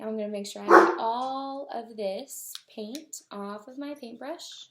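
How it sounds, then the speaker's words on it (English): A dog barks while playing in the background, several sharp yips and barks scattered through the stretch while someone talks over them. "you might hear my dog in the background"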